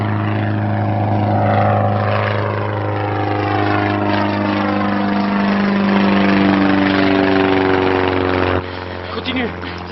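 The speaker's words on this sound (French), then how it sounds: "attends, c'est pas une motoneige, c'est un moteur d'avion." A propeller airplane engine drones loudly overhead, a steady deep hum with shifting pitch as it passes, while people call out over it.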